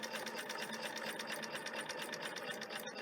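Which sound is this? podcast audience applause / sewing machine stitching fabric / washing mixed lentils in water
sewing machine stitching fabric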